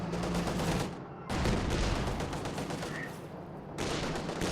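A machine gun in a World War II strategy game fires in a long, dense rattle of rapid bursts with brief breaks between them, loud and continuous, under the clatter of battle.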